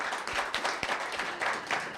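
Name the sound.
applause for Sierra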